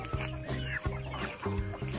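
Native pre-raised chickens cluck in a backyard, with several short, repeated calls close by, some overlapping, and steady farmyard ambience underneath.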